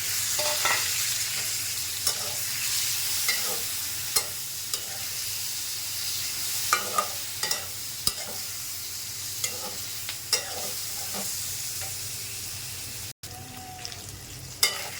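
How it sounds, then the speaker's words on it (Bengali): Onion, garlic and ginger fry over medium heat in a pan, a soft steady sizzle broken by repeated clicks and scrapes of a spoon stirring, with no talking. "তাই মিডিয়াম জালে এখন পেঁয়াজ রসুন আদা দিয়ে দিলাম"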